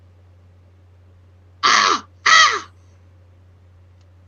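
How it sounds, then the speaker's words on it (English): A crow caws twice in quick succession, two loud, harsh calls close by over a low steady hum, with a brief exclamation from a person. "I heard something. There's a crow."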